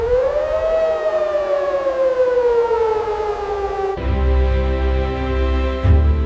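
A loud civil defense siren wails with a slowly falling pitch, then switches abruptly to a steadier, harsher droning tone.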